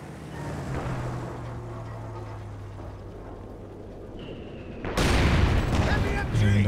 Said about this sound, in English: Machine gun from one side, direct fire as well.